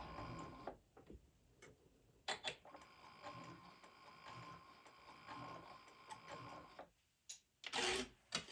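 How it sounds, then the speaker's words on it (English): A sewing machine stitches placemats with red thread in a quiet, even mechanical whir with regular ticking, close by, broken by short clicks and pauses near the start and end. "And I'm stitching with red thread so that it will show up."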